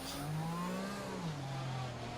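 Race cars in a Monaco racing video game, an engine note rising and falling as a car accelerates and shifts, moderately loud over a wash of background noise, no clear talk.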